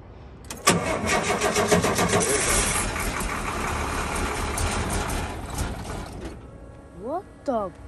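A truck engine in cold weather cranks briefly, then catches and roars to life loudly, running rough and steady for several seconds before settling, with a couple of short squeaky chirps near the end.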